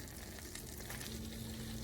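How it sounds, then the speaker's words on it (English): A soft, steady sizzle of butter melting in a frying pan hisses quietly and continuously, like fat bubbling in a hot pan, with no talking. "first you're going to add 2 tablespoons of butter to the frying pan"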